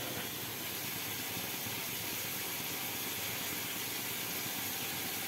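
Pumpkin pieces frying in oil, a loud, continuous, even hiss of sizzling with no breaks or other sounds throughout.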